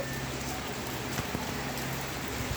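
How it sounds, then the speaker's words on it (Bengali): Steady rain patters outdoors onto a flooded street at a soft, even level, with scattered drops ticking faintly against a surface and no voices. "তো দেখো এখন বৃষ্টি পড়ছে"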